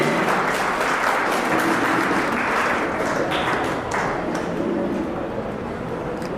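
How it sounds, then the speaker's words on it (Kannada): Sustained loud applause from an audience at a Karnataka state gem award ceremony honouring trustee Poosegowda, steady dense clapping filling the hall and fading slightly toward the end. "ನಿಮ್ಮ ಜೋರಾದ ಚಪ್ಪಾಳೆ ಬರಲಿ ನಮ್ಮ ಟ್ರಸ್ಟಿ ಪೂಸೇಗೌಡ ಅವರಿಗೆ"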